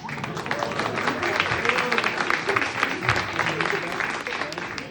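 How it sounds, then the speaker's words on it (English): An audience at a Persian community meet-and-greet applauds, a steady wash of many hands clapping at moderate distance with some voices underneath. "لطفاً تشویق کنید. دست بزنید."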